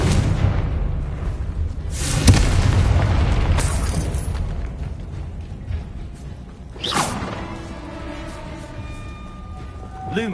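A Confringo blasting spell from the Hogwarts Legacy game erupts in booming explosions, with a big burst near two seconds and another sharp blast around seven seconds, over a continuous rumbling game soundscape.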